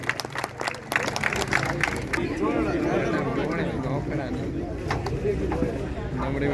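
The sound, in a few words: applause for national players at a match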